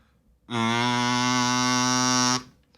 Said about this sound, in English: getting a good sound out of the kazoo